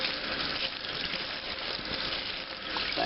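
Broccoli is rinsed under a running tap, giving a steady close gush of water that splashes unevenly over the florets without pause for about three seconds.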